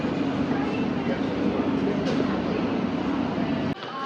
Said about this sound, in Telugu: ట్రైన్స్ తిరుగుతూ ఉన్నాయి అండర్ గ్రౌండ్ ట్రైన్స్.